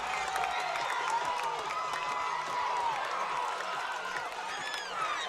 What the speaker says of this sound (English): That gets the Palmyra crowd into it.